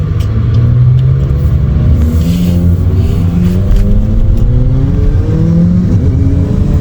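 A big motorcycle engine rumbles past on a road at sunset in hot West Texas, a loud, steady revving drone with shifting pitch that holds throughout without speech.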